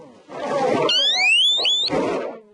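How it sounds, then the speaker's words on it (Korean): A radiation alarm sounds on the second floor of an explosion-damaged building, with loud electronic tones sweeping upward through a noisy, hollow background. "건물 2층에선 방사능 경보음도 울립니다."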